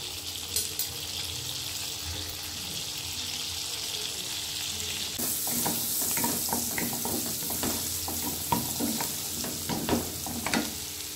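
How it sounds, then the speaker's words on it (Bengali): Chopped garlic hits hot butter in a wok and a loud sizzle jumps up midway, followed by crackling spatters and stirring scrapes close by, with a quieter frying hiss before it. "বাটারটা গরম হয়ে গেছে। এর মধ্যে আমি রসুন কুচিগুলো দিয়ে দিচ্ছি।"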